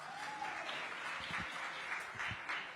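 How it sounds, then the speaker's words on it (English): Audience applause at a women's leadership event, a short stretch of moderately loud clapping with some voices mixed in. "a big round of applause for all of us"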